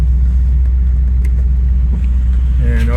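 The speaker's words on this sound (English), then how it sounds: "now we're letting a vehicle go by me" A car rolls past on a park road while the recording vehicle is pulled over, making a loud, steady rumble close by with a rising engine note at the end.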